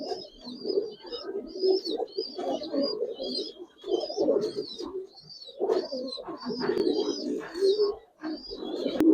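Giribaz coloring pigeons coo in repeated deep, throaty phrases, close and loud, with higher chirps above them and no speech.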